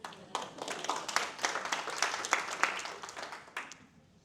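Applause from a conference audience at a women in insurance technology event, a burst of scattered hand clapping that swells for a few seconds and then thins out.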